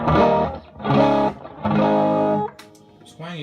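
Electric guitar played through a Line 6 Spider Valve MkI 2x12 combo on a distorted channel using the neck pickup, with three sustained chords ringing out close and loud and a short lick at the end.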